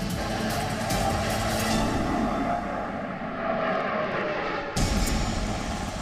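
A Sukhoi 30 MKI fighter jet roars overhead, a loud, steady, broadband engine rush that holds throughout and briefly thins before surging back.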